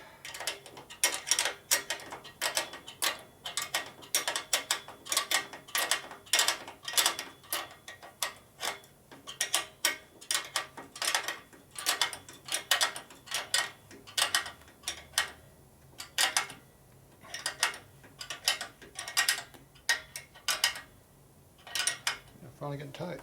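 An open-end wrench ratchets and clicks in quick repeated bursts while torquing down bolts on a 1965 Harley-Davidson panhead 74ci FLH motor, with short pauses between strokes and no talk.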